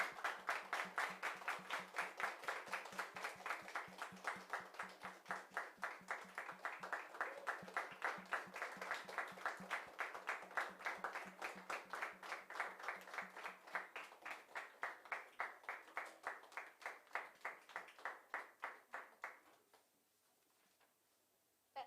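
An audience at a school event claps for students taking the stage, producing a long, even run of quick, rhythmic claps at a distance and fairly faint, which stops abruptly near the end.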